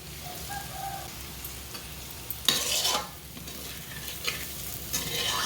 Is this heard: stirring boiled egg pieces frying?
yes